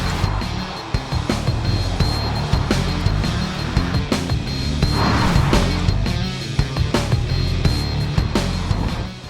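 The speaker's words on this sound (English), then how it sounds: "I'll go round in the Ferrari." A Ferrari Roma with a 612-horsepower engine drives around, its engine note rumbling loud and close with bumps and knocks from the road throughout.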